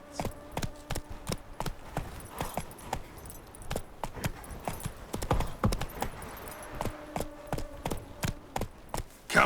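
Roach, a horse in the video game The Witcher 3: Wild Hunt, gallops with steady, loud hoofbeats and a faint jangle of tack, the rapid rhythm running throughout over a dense game backdrop.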